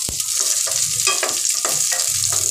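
Chopped onions sauté in hot refined oil in a pan, a loud, steady close-up sizzle and crackle with a few stirring scrapes and no talking.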